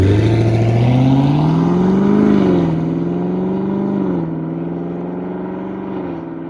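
A 2021 Chevrolet Camaro SS with dual-mode exhaust in sport mode makes an intermediate pull, its engine note rising steadily, dipping briefly, then holding a throaty drone that fades slightly toward the end, close and loud with no talk.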